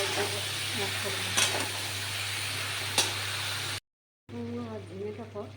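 Ridge gourd frying in a pan gives off a steady sizzle with a couple of sharp hissing bursts as a little water goes in. A voice talks over it, then there is a brief silent gap before talking resumes over the sizzle.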